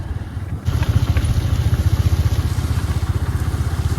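Motorcycle riding along a field road near a village, the engine starting up after a brief lull into a steady, close, pulsing drone that holds without a break.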